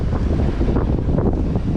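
Strong wind at sea during Hurricane Gabriel near the Azores buffets the microphone in a constant roaring rush, with the wash of open water beneath it.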